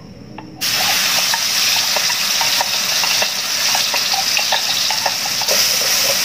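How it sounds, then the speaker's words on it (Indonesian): Ground chili paste hits a hot pan for stir-frying and bursts into a loud, constant sizzling hiss, dotted with small pops and light scrapes of a utensil, with no one speaking. "Ini cabenya sudah saya giling, sekarang akan saya tumis."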